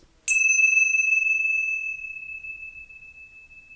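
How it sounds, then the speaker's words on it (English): A meditation bell is struck once, giving a clear bright ding that rings out in a long, pure, slowly fading tone against near silence. "As we listen to the sound of the bell this time,"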